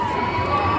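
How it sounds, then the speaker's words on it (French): Audience at the Japan Tours Festival 2025 cosplay contest cheering and shouting for the first contestant, a brief, loud burst of crowd noise with children's voices. "Je vous demande d'applaudir bien fort notre premier participant"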